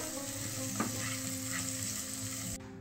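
Spiny gourd curry with chopped coriander sizzles steadily in a pan as it is stirred, with a brief scrape partway through. The sound is close and fairly quiet, then cuts off.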